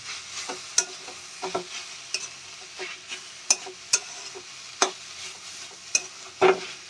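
Drumstick (moringa) leaves frying in a pan while being stirred, for a leaf bharta: a soft continuous sizzle broken by irregular scraping and clacking strokes of the spatula, close and moderately quiet, with no talking.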